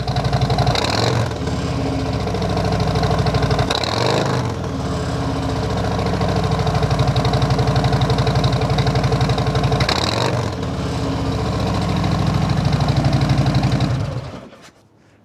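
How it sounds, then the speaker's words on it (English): A Harley-Davidson Road King with a TAB slip-on exhaust rumbles loudly and steadily up close, with a few throttle blips lifting the deep engine note before it cuts off at the end. "Still love the sound. Do a little rev."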